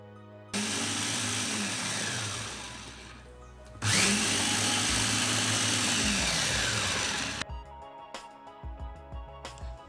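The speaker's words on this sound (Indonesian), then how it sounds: "untuk memblendernya, saya menggunakan chopper andalan dari Mitochiba." A Mitochiba chopper blends leftover rice in two loud whirring bursts of a few seconds each. Light clattering and knocks follow as it stops.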